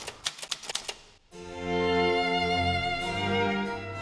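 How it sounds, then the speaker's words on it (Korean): Typewriter keys clack in a rapid, uneven burst of close strikes, followed by a sustained tonal sound that holds for a few seconds. "저 타자 치는 소리 향수 그 자체죠."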